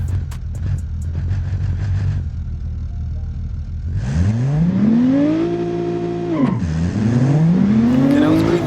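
Race cars at a This VS That tournament idle loudly at the start line, then launch with a close, roaring burst of revving engines that climb in pitch, shift and pull away.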